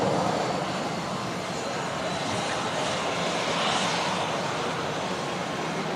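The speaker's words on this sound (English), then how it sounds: "Jet 2 737 with no winglets this time." Jet2 Boeing 737 without winglets taking off at Manchester Airport, a steady, distant jet engine roar that holds level throughout with a broad rushing hiss and no talk.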